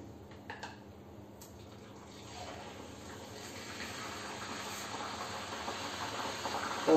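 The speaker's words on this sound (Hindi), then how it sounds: "डेटॉल हैंड वॉश इसके अंदर कैसे उबल रहा है" Dettol handwash sizzles and boils in hot oil, a faint crackle that builds into a rising, steady frying hiss up close, with a sharp burst at the very end.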